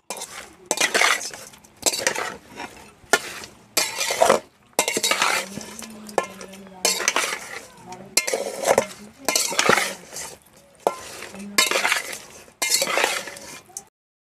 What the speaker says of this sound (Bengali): সবগুলো এখন একসাথে ভালো করে মিশিয়ে নিচ্ছি। খুব ভালোভাবে মেশাতে হবে যেন মাছের সব জায়গায় মিশে যায় মশলা।